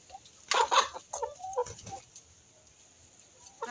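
A young rooster, a cross of Indian and Caipirão breeds, clucks in a few short, close bursts, then falls quiet against a faint background.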